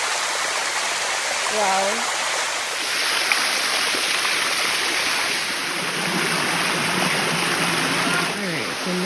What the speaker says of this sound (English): Oh, on top of the waterfall.